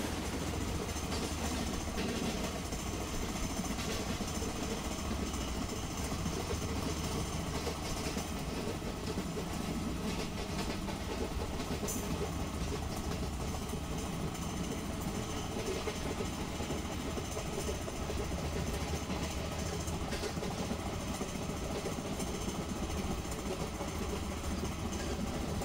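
A freight train hauled by an EMD locomotive rolls past toward Jabalpur in a continuous, loud roar of wheels and wagons, steady for the whole stretch with no pauses.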